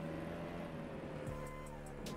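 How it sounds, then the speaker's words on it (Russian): Game car in BeamNG Drive on Android picking up speed, a steady engine drone with a gear change partway through, loud and constant with no talk over it. "вот машина у нас берет разгон"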